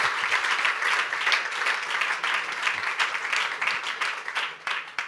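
An audience applauds steadily, dense clapping from many hands at moderate distance, continuing evenly for several seconds before tapering slightly.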